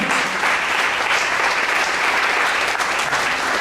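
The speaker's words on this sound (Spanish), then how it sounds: "Dale un fuerte aplauso a Jesús." A church congregation breaks into loud, steady applause for Jesus during a sermon, a dense, continuous wash of clapping that fills the room without pause.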